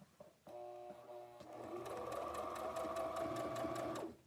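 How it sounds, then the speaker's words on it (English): A sewing machine stitches fabric, starting with a short back stitch and then running forward in a steady, fast mechanical whir with regular ticking, close and clear before stopping. "I'm going to back stitch and come forward and raise my needle, raise my foot"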